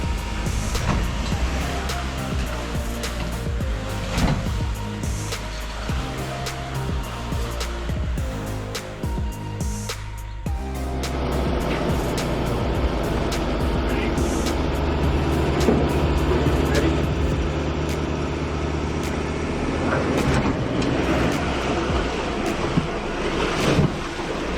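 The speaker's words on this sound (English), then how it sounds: "this helpful couple in a Toyota Hilux are snatching Jeff out in the Ranger" A Toyota Hilux snatch-strap recovers a Ford Ranger stuck in a muddy bog hole, with engines revving steadily, shifting in pitch partway through, under continuous wind noise outdoors.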